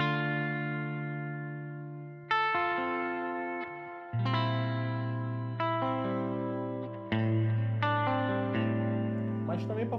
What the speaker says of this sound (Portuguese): aqui eu tô com a Arena Reverb, que é um pouco mais parrudo, né? Pode ficar mais tempo.